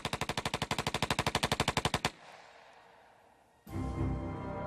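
A machine gun fires one long, rapid burst of evenly spaced, loud, close shots for about two seconds, followed by a quieter lull and then a sudden heavy blast of noise.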